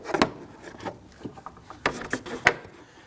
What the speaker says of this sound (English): We want to go ahead and take our airbox lid and pull it towards the passenger side.